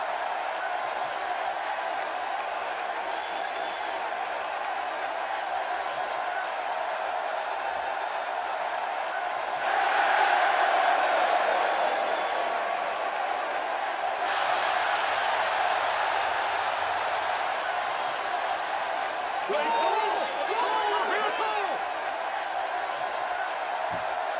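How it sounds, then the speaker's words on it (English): Crowd in the WWE 2K16 arena at a Raw wrestling event, a steady roar of cheering throughout that swells louder midway, with a commentator talking over it. "The Raw crowd here tonight is definitely fired up for this one."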